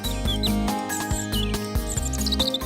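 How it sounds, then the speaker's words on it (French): A European robin sings thin, high whistled phrases and quick chirps that rise above a dense, low, tonal backdrop resembling music, with no one talking. "Il faut dire qu'à la différence de bon nombre d'oiseaux, le rouge-gorge chante toute l'année."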